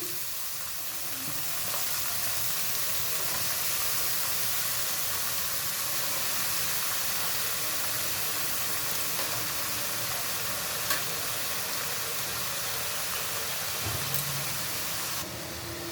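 Cabbage fries with a cooked spice paste in a pan, producing an even, moderately loud hiss of frying that runs unbroken throughout, with a few faint clicks of a utensil.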